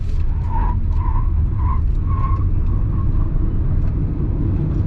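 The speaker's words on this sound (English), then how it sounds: "I'm going to put my foot down from a standstill, and you'll see why you really can't drive this car" A 2020 Hyundai Kona Electric launches hard from a standstill in sport mode, its tires skidding with a steady squeal over a continuous road rumble that stays loud and close for the whole stretch.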